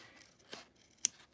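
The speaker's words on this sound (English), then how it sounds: "If you can get a really sharp pair of applique scissors, all you really have to do is run it along the stitch line and it will cut" Sharp applique scissors snip along a stitch line on a sewn felt ornament, giving two quick, crisp cuts, the second louder, against a quiet background.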